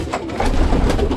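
Racing pigeons in a loft, continuous soft cooing with a steady rise in volume partway through, close and fairly loud, with no talking.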